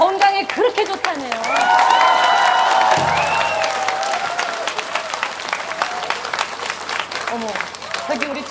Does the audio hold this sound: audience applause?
yes